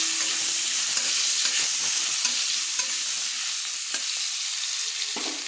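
Potatoes seasoned with turmeric and salt fry in a pan, a steady close hiss and sizzle broken by scraping clinks of a spoon stirring them.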